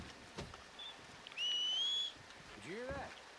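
A whistle sounds inside Red Dead Redemption 2, a clear rising-then-level tone lasting about a second, with faint ambient game noise and rain-like hiss around it and a few low thumps before and after.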